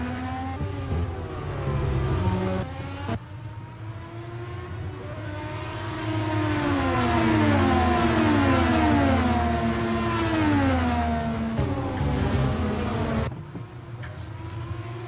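Several race cars in a racing game championship sweep over the start-finish line, their engines rising and falling in pitch as they pass close by, one after another, with a loud sustained whine and no talking.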